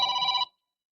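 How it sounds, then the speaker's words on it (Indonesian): A telephone rings during an Indonesian live stream: a single bright, electronic burst lasting under half a second, loud and close, then cutting off into silence. "Aduh, ada yang telepon lagi ya."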